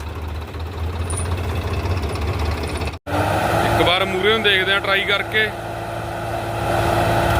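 A heavy tractor engine drones loudly and steadily throughout, straining to pull a stuck trolley in a wet field, briefly cutting out before resuming, while someone talks over it partway through.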